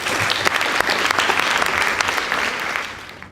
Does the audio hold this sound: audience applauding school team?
yes